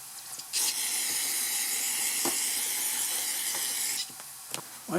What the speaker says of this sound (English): I'm going to hit this with the little brake parts cleaner.